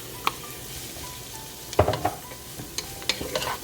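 Mushroom and ground beef sizzle in a pan for chili, a soft steady frying hiss broken by scraping and clinking stirs against the pan, close and moderately quiet.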